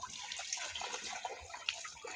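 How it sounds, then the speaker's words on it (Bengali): Water splashes and trickles steadily onto a cow being treated for fever, a close, continuous wet pouring without breaks. "এই জায়গা এভাবে পানি দিতে হবে,"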